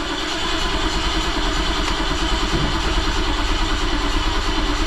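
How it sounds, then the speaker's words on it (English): Brand-new starter cranking a BMW motorcycle engine: a steady, loud mechanical churning with clatter that runs unbroken throughout, with no catch or firing. "Just cranking, cranking, cranking. Crank it till it won't crank."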